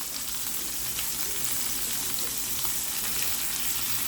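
Meat for a pot roast sears in a deep pot, giving a dense, steady sizzle and crackle at close range with no talking.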